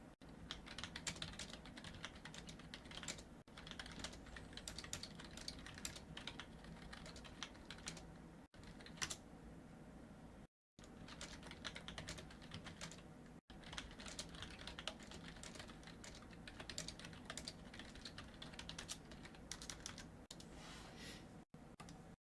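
Rapid clattering keystrokes on a computer keyboard, quiet and close, running in dense bursts with a few short pauses, no voices heard.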